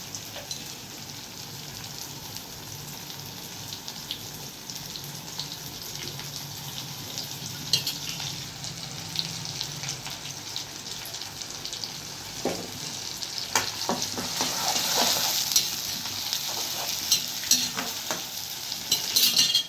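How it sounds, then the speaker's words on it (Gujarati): Chopped onions frying in a pan while poha is being made, a continuous close sizzle with frequent stirring scrapes that grows busier and louder toward the end. "ડુંગળી નાખી છે ને થોડીક ચડવા દઉં છું."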